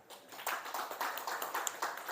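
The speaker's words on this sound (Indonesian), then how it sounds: "Tepuk tangan buat beliau." Applause from an audience at an Indonesian talk on religious moderation: a dense patter of clapping that keeps up through the moment, moderately loud, with no talk over it.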